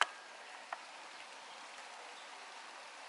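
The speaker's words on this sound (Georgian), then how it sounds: "აი ესეთი წვიმა, მეგობრებო." Soft, steady patter of rain falling in a garden with roses, chairs and a swing, a faint continuous hiss with a couple of sharper drips and no voices.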